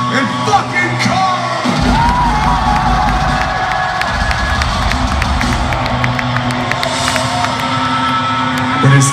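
Concert crowd at a show in Sioux Falls, South Dakota, cheering, yelling and screaming loudly and continuously, a dense roar of many voices that swells near the end.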